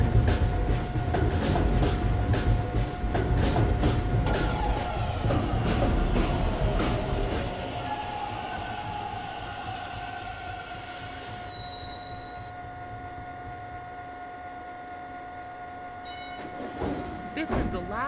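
A New York City subway Downtown 1 local train runs at Rector Street station with a loud clattering rumble and high-pitched wheel squeal that fade as it slows and stops, followed by quieter idling and a brief chime near the end.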